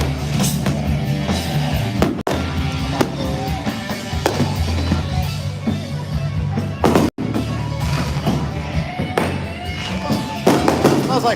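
Dense, continuous crackling and booming bursts of fireworks, loud and close, with faint voices now and then underneath.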